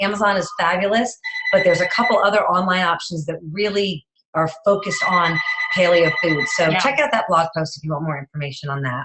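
A telephone ring sounds in a home setting, with repeated electronic tones in two bursts underneath continuous close talking by a woman discussing food.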